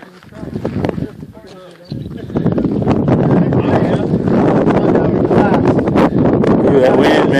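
Strong wind on a mountain summit in the Pioneer Mountains, roaring and buffeting the microphone up close, briefly easing then gusting harder and continuously, with people talking and cheering over it.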